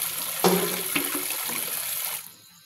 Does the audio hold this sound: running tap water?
yes